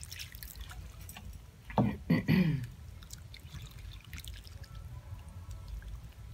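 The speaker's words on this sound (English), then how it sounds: "So give it a liberal watering and a bit of love." Water pours from a can onto a kangaroo paw plant in a fence planter, a couple of brief splashing bursts that fade into quiet outdoor background.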